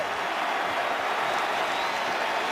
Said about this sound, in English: Crowd is standing and cheering.